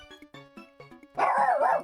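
A dog gives a few short, close yips, then breaks into a louder, rougher burst of barking that fills the last part of the moment.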